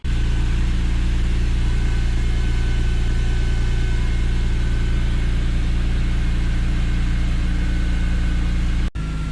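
A BMW E39 M5 V8 with its catalytic converters deleted idles steadily and loudly, a deep continuous rumble holding smooth with no revving, then cutting off abruptly near the end.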